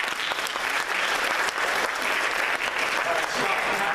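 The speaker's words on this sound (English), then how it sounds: "You should applaud for that." A lecture audience at a university talk on Islamophobia claps steadily and densely throughout, fairly loud, with some voices under the applause.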